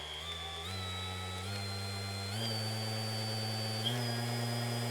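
A Mirka AROP312-B 3-inch random orbit polisher runs steadily with a continuous motor whine, stepping up in pitch and loudness at several points as its speed is raised, with no voices over it.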